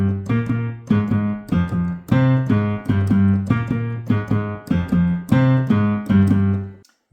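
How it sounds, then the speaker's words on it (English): Low brass and percussion play a syncopated ostinato from the Monster Hunter World soundtrack, a loud repeating figure of punchy accented hits in an uneven rhythm, ending in a short fade. "The first is a syncopated ostinato that is played in the low brass and percussion."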